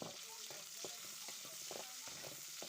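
Puti fish crackles and sizzles steadily in hot oil in a wok, with repeated stirring scrapes breaking up the constant frying hiss.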